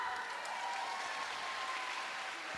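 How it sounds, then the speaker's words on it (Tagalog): An audience at a low-carb community event applauds in a steady, dense wash of clapping that sounds fairly distant and soft and continues without a break. "isang palakpak muna!"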